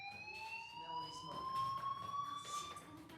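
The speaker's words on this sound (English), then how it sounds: "do you hear that fire alarm?" A fire alarm in the video game Life Is Strange rings as a steady, shrill electronic tone throughout, faint and slightly rising, with muffled voices and movement beneath it.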